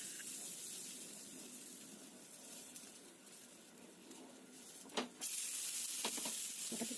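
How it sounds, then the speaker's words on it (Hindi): Hand-shaped veg tikki patties sizzle in hot oil in a pan, a steady close frying hiss, with sharp spatters and crackles as more patties are dropped in one by one. "अभी अपने हाथ से इसको टिक्की जैसा शेप बना के पैन में एक एक करके डालना है।"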